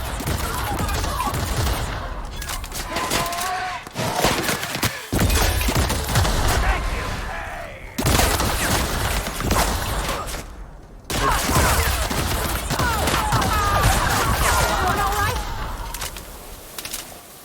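Sustained bursts of rapid gunfire from a weapon in the video game The Outer Worlds, loud and dense with short gaps between volleys, while a player talks over parts of it.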